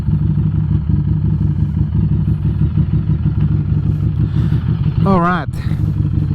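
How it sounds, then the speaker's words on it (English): Harley Davidson Street 500 motorcycle idling nearby with a steady low rumble, someone speaking over it and a brief rising whine near the end. "I'm just gonna keep the engine on while talking to the camera"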